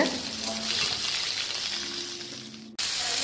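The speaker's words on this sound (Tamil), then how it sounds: "இப்போ கொஞ்சம் கிளறி விட்டுருங்க" Long-sliced onions sizzle steadily in a pan while being stirred for an onion gravy, a close, even frying hiss with soft scraping that cuts off briefly near the end, with no talking.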